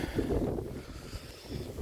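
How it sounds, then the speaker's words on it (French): Strong wind buffets the microphone outdoors in a vegetable garden in January, a continuous loud rumble with gusts across the whole stretch and no speech. "il y a beaucoup de vent, donc je sais pas si on m'entendra"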